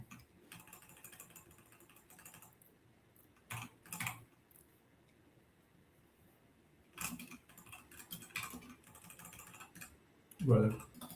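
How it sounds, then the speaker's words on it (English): Computer keyboard typing with a cup set between the hands comes through as scattered bursts of soft clicking keys, sparse and fairly quiet over near silence, with one louder thump near the end. "I'm typing with a cup in between, so excuse me"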